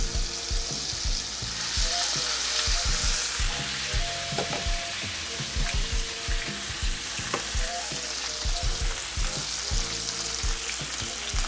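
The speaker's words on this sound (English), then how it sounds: "We're going to put our salmon in, skin side down." Salmon fillet sizzles skin side down in a hot pan, a loud, steady frying hiss with scattered crackles and pops, heard alone without talk.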